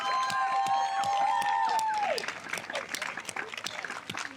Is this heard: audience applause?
yes